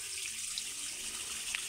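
Water flows steadily from a tap at a house, a soft continuous hiss of running water, faint and unbroken, with no voices.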